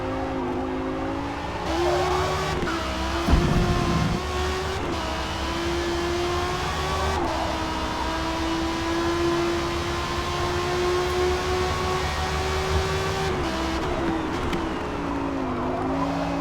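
An R1 class Lamborghini race car in Forza Motorsport screams through its gears. A sustained high engine tone climbs, drops sharply at each shift, then rises again, with brief bursts of rasp between shifts.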